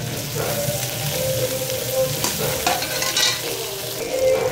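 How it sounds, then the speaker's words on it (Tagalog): Onion, ginger and star anise sauté in a pan for pares, a loud, steady sizzle with stirring that runs through the whole moment. "Ilagay na natin si sibuyas. Lahatin na natin yan, pati luya. Ayan. Isama na rin po natin si star anise. Igisa na natin yan."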